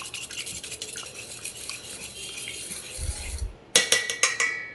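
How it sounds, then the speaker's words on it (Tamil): Vattalappam mixture is whisked by hand until frothy, making a quick, scratchy, rhythmic stirring against the bowl. It pauses briefly with a low thump, then resumes with sharper strokes. "இப்போ இதை ஒரு விஸ்க் வச்சோ இல்லை ஹேண்ட் பீட்டர் வச்சோ கூட நல்லா கலந்து விட்டுக்கோங்க."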